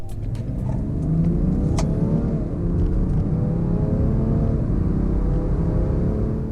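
2017 BMW 335d diesel accelerating hard from 30 to 70, a loud, steady engine drone climbing through the revs with a brief shift dip, heard from inside the car with road noise and a few clicks.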